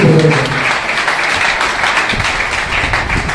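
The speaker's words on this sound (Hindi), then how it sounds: "मैं आपसे आग्रह करूंगा कि एक बार तालियां पंडित ताराचंद जी के लिए, राज समाज के लिए, पूरी टीम के लिए हो जाए" Loud, dense applause from an audience at an event in Haridwar, a steady wash of many hands clapping close by with no talking over it.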